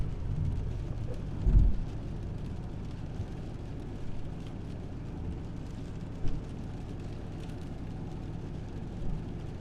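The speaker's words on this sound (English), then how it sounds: "I'd like the rain to let off a little bit" Steady rain drums on a car during a highway drive through Pennsylvania, a constant broadband wash with road rumble beneath, and a few dull low thumps that could be distant thunder.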